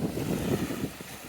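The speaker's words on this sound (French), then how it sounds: "Le vent rentre du sud aujourd'hui, directement dans la baie où est-ce que je suis." Wind blowing in from the south across a bay, a steady rushing roar with low buffeting against the microphone, continuous and fairly loud with no voices.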